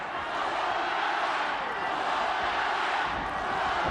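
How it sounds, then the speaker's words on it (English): A large arena crowd at a Pride Fighting Championships 11 MMA bout chants for one fighter, a dense continuous roar that swells slightly toward the end. "there's more Ogawa chants in the crowd"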